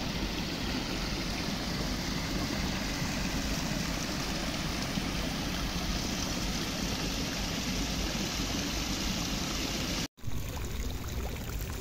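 An artificial waterfall built to look natural pours in a steady, dense rush, loud and constant with no break except for a brief cut near the end.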